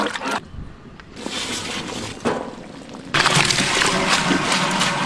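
Water is poured into a pot of Dum-style goat leg biryani already holding ginger-garlic paste, tomato, curd, salt, biryani masala and coriander powder. It makes a hissing, splashing rush in bursts that grows louder and steadier near the end.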